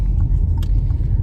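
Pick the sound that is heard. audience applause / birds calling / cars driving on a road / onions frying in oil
cars driving on a road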